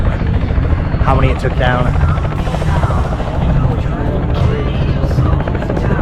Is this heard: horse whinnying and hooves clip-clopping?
no